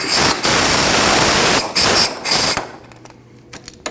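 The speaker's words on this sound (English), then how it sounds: "Now you need to remove your jam nut." Loud, harsh bursts from a tool working the jam nut on the inner tie rod of a 2003-2008 Subaru Forester, broken by short pauses, then falling away to a quiet, faintly humming tail.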